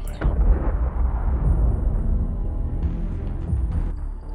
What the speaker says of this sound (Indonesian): membunuh ilmuwan tersebut dengan meledakkan mobilnya